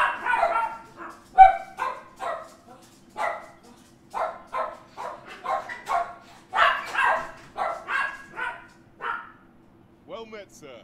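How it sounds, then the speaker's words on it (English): Dogs bark and yip in a home setting, a rapid run of sharp barks close to the microphone, with a few whimpering yips and brief pauses between bursts. "My dogs are going a bit crazy."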